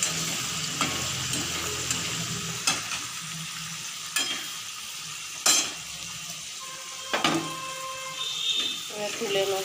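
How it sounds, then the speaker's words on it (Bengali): Cauliflower fries in a pan with a steady sizzle, interrupted by several sharp clinks and scrapes of stirring. Speech runs faintly underneath. "এই যে ভাজা হচ্ছে ফুলকপিটা"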